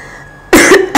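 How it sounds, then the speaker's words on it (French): Two loud, harsh coughs from a person with a cold, close to the mic, a short gap between them, following a quiet stretch. "Mais c'est comme ça que je tousse."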